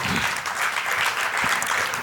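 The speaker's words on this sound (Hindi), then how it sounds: "ताली तो बजा दो।" Audience applause at a religious sermon, a steady dense wash of clapping filling the whole stretch at moderate loudness.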